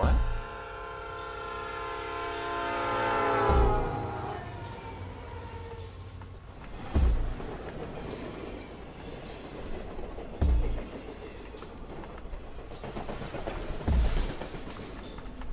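Train sound effect from the Pokemon Reborn video game, with a horn-like tonal blast fading into rhythmic rumbling and periodic clunks as the train pulls away, no talk over it.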